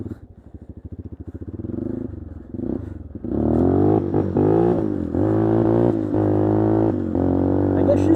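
An old Yamaha Warrior 350 ATV engine idles with a rapid putter, then revs up hard and holds a loud, wavering roar with sputtering dips and bogs under throttle, close by.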